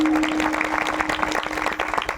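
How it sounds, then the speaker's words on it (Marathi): Audience applause at a Marathi kirtan during a religious week-long festival in Devapur, a dense crowd clapping steadily with a faint sustained tone underneath. "ताईंसाठी एकदा जोरदार टाळी वाजवा."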